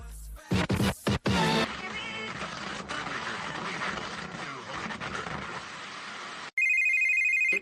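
A telephone rings in short repeated bursts over ongoing background noise, then a final ring comes through clearly near the end.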